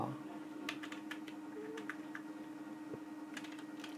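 Light clicking of a computer keyboard as Python code for a BMI calculator is typed, in scattered short bursts of keystrokes, faint and close over a low steady hum.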